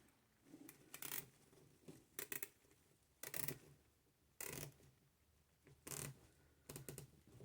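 A cheap plastic zip tie is threaded and pulled tight while assembling a witch hat wreath, giving a series of short, sharp ratcheting zips in separate bursts, fairly quiet and close, with no talking.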